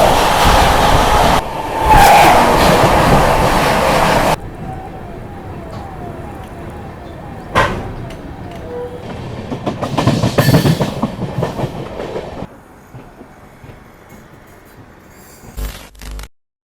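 Trains pass on railway tracks on an Indian rail journey aboard the Unchahar Express, with loud rumbling passes, rhythmic clickety-clack of wheels over rail joints, sudden cuts between passes and a few sharp bursts of noise.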